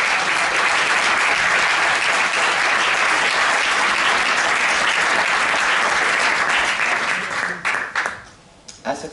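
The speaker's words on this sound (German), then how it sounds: "die verdient wirklich einen Applaus" An audience applauds a film collaborator during a public talk with a filmmaker, a loud, dense, sustained round of clapping that thins out and tapers off near the end.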